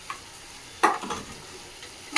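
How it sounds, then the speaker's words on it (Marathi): Ground masala paste stirred into a hot pan for a brinjal gravy; a brief, close sizzle broken by a couple of quick scraping stirs, with no talking. "आताच त्याच्याबरोबर वाटण घालून घेते."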